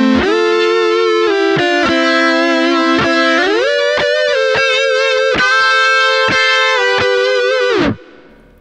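Electric guitar played through a Boss Katana amp with a harmony effect stacking a second voice over each note, loud sustained distorted chords and single notes for about eight seconds, then cutting off abruptly into a brief decay.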